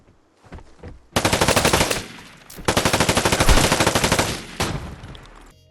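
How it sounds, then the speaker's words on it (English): Gunfire in the video game Vigor rattles out in two long automatic bursts, loud and rapid, with short pauses and a few single shots between them. "Guns do have a bit of kick to them and spread, but they all feel really nice to use and sound nice too."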